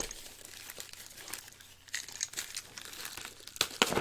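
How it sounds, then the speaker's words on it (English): A padded envelope holding a Lego set is torn and opened up close, crinkling and rustling steadily, then a few louder ripping crunches near the end, with no voices. "we are going to go ahead and open that envelope right now"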